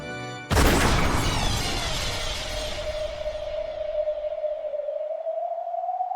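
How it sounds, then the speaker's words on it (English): One sudden loud gunshot in the visual novel game Umineko When They Cry, followed by a long fading boom and a steady ringing tone that lingers to the end. "when the number 3 was yelled, the sound of gunfire rang out at once"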